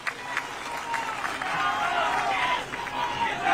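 Audience at a Congress rally with Rahul Gandhi applauding to welcome the deputy chief minister of Chhattisgarh, a moderately loud wash of clapping and crowd murmur that swells in the middle.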